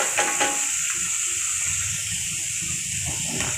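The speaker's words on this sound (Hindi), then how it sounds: "तो अब हम इसमें डाल देंगे कटे हुए टमाटर और हरी मिर्च।" Chopped tomatoes and green chillies hit browned onions in a hot pan, giving a steady, close hiss of sizzling with a few soft clinks and stirring noises.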